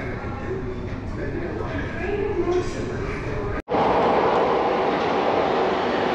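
Metro train arriving at Al Doha Al Jadeda station in Qatar, a steady loud rumble that cuts out in a brief drop partway through, then returns fuller and closer, with people talking in the background.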